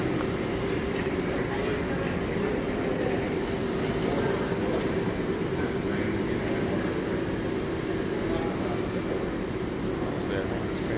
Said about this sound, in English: This train is going out of service.